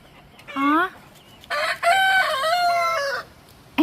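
Hens cluck and a white rooster crows loudly and close by, with drawn-out calls following one another over a steady farmyard background.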